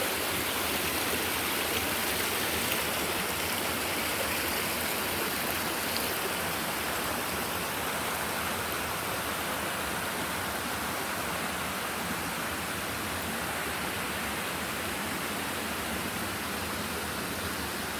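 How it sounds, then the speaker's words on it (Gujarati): A stream runs through dense forest, a constant, broad rush of flowing water heard up close and unbroken, with no voices. "તો આ ઝરણા અને આ ઘોર જંગલનું તમે થોડું આનંદ માણો"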